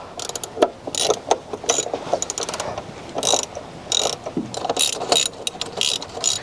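Ratchet fitted with an extension clicking on an intercooler pipe clamp of a 6.0L Powerstroke diesel, in a series of rapid close metallic ratcheting bursts with short pauses between strokes.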